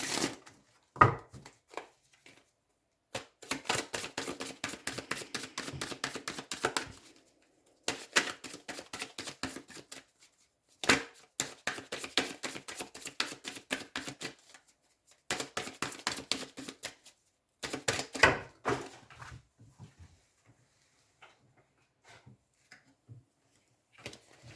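Oracle cards being handled and shuffled in bursts of rapid riffling clicks, with several pauses between rounds and a few scattered taps, close and fairly soft, with no one speaking.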